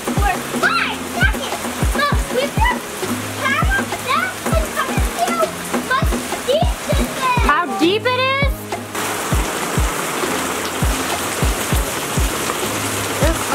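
Floodwater rushing through residential yards, a continuous splashing roar with bursts of spattering water, while excited voices talk over it close by.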